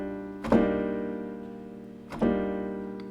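A dissonant chord with a crunchy, clashing note is struck twice, each strike ringing out and slowly decaying, with no talking.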